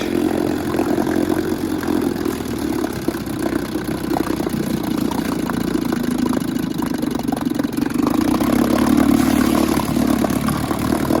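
Two used boat motors running steadily after a carburetor adjustment, a continuous mid-pitched engine drone with rattling clatter, loud and close throughout without pause.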